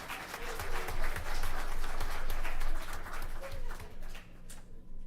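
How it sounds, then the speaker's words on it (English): A town council meeting audience gives a round of applause, a dense wash of many hands clapping at steady volume for several seconds before thinning out toward the end. "Give her a round of applause."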